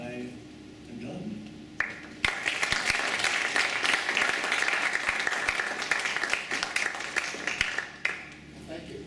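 A lecture audience at a University of Kentucky computer science talk bursts into steady applause for the speakers, clapping dense and sustained for several seconds before tapering, with a voice briefly heard at the start.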